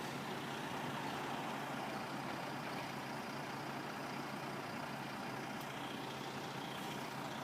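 A slinger truck with a conveyor belt idles at a construction site, its diesel engine giving a steady broadband rumble that holds even and continuous throughout, with no talk over it.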